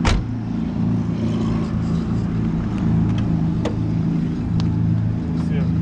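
A 1992 Oldsmobile Cutlass Supreme convertible's 3.1 liter fuel-injected V6 runs with a steady, close, droning hum and a few sharp clicks and knocks on top.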